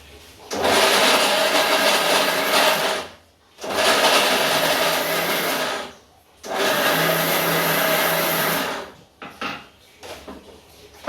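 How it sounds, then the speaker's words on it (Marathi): A kitchen mixer grinder grinding bread into fine crumbs for upma, three loud whirring bursts of a few seconds each separated by brief pauses, followed by light clattering as the jar is handled. "मिक्सरचा आवाज बघितला आता मिक्सरमधनं हे काढले ब्रेड काढलेत बारीक केले ब्रेड उपीटसाठी"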